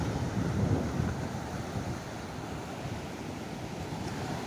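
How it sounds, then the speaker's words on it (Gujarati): Sea waves break on the shore in a steady, loud surging roar mixed with wind buffeting the microphone. The roar swells near the start, then settles into a constant wash with no voices. "હમણાં તમને બતાડું થોડીક આમ વેણ ના પાણીના મોજા"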